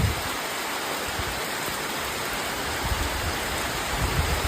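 Heavy rain pouring down in a steady, dense hiss of broadband noise with no breaks, loud and enveloping, no voices.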